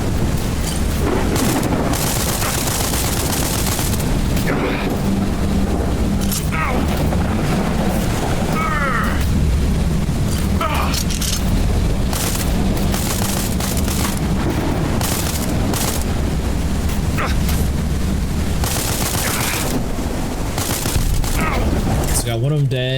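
Gunfire and explosions in the space video game Space Bourne 2, a dense, loud and continuous barrage of shots and booms with sharp bursts throughout.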